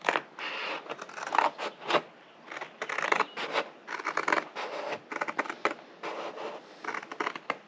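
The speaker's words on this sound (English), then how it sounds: "Use some cheap scissors here for now." Cheap scissors cut through material for a Honda Civic brake duct build, producing repeated scratchy snipping and rubbing bursts in an uneven rhythm, close and moderately loud.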